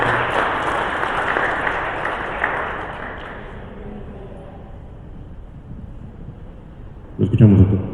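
An academy audience at a dyslexia training session applauds to welcome a visiting pediatrician. The clapping starts strong, softens after a few seconds and tails off, then a short louder burst of handling noise comes near the end.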